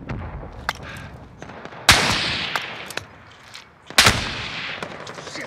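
Gunfire in a video game shooter: two loud, sharp blasts stand out among scattered quieter pops and cracks, with no voices.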